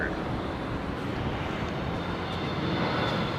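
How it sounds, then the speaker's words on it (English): A US Air Force Boeing C-17 Globemaster military transport arriving at London Heathrow runway 27R makes a continuous, fairly distant jet-engine roar that holds steady and even. "That's an overwing, isn't it? It's A400, isn't it? C-17. It's a Globemaster."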